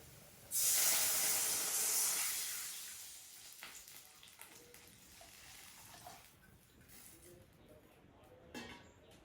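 Milk poured into a hot pan of fried onions for a Kilinochchi-style fish curry, giving a loud, sudden burst of hissing steam and spray that slowly dies down to a softer sizzle, with a few faint clinks near the end.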